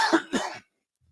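A person coughs twice in quick succession, close and fairly loud, followed by silence.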